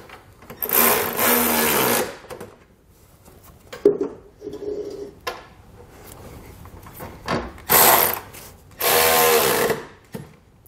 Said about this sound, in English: I'm going to use a 16mm socket just to snug everything down